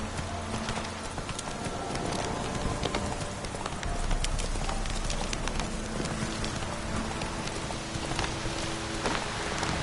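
Roach the horse trots along in The Witcher 3, with steady, rhythmic hoof clip-clops close by under a constant patter of rain, and a brief whinny among the hoofbeats.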